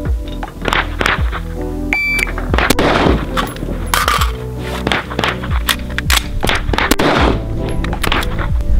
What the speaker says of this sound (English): we're gonna do a reload out of the ready rig.